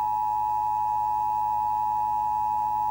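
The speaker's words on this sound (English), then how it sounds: "The alert would start off with a creepy tone known as the attention signal." The Emergency Alert System attention signal, two simultaneous steady tones at 853 and 960 Hz, drones loud and unbroken with no pauses.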